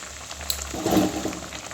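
Prawn malai curry bubbles and simmers in a pan, a soft close gurgling swell rising midway then settling into a low steady bubble, with no voices.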